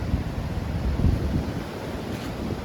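High surf rolls in at Gopit beach on the southern coast of Java near Malang, a loud, steady roar of breaking waves mixed with strong wind rumbling across the microphone, with no talking.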